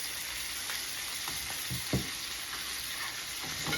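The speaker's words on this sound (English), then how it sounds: "You're going to start basting your steak with the butter." Steak frying in butter in a pan, a continuous even crackling sizzle with a few soft spoon or pan knocks, close and moderately quiet.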